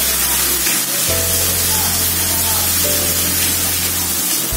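A spice paste sautéing in a pan for chicken tongseng, giving a loud, steady sizzle and hiss close by that continues unbroken, with a low hum beneath it.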